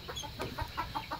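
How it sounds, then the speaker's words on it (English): Small young chickens kept apart from larger adult hens give short, soft clucks in a quick scattered series, close by and fairly quiet, with no talking. "I got these chickens I put out here with my big chickens"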